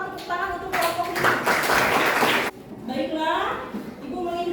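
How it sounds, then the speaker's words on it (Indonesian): A short, dense burst of clapping from students in a classroom for a group, lasting just over a second amid children's voices and talk. "Tempat tepuk tangan untuk kelompok ini"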